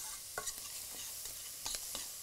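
Garlic cloves and onion sizzle faintly in a pan, with a few scattered scraping strokes of stirring over a steady soft hiss.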